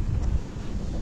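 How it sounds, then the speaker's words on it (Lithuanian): Wind gusts across a lakeshore at a carp fishing pond, a steady low rumble buffeting the microphone with no voices present. "Vėjas pučia man į nugarą"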